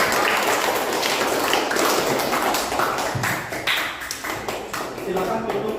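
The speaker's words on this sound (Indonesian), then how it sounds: "Tepuk tangan untuk" Students in a classroom clap after a group presentation, a scattered, uneven patter of hands that rises and fades with voices talking over and around it.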